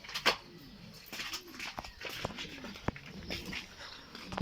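Pigeons coo softly in a rooftop loft, with low, rounded, repeated calls and a few brief higher whimpers and rustles, close but quiet, without talking.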